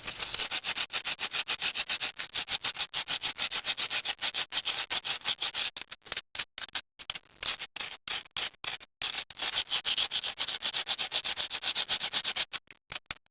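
Rapid, steady rubbing and squeaky scraping of styrofoam pieces against each other, close and continuous, with a few brief pauses partway through.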